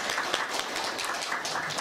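An audience at a Korean judicial policy symposium applauds presenters and discussants, a brief, continuous patter of clapping at moderate level.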